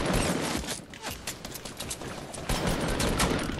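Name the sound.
gunfire in the video game Fortnite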